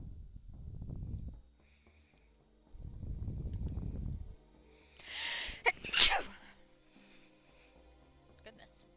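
One sharp sneeze bursts out near the middle, coming after two stretches of low rumbling noise and followed by a few faint clicks.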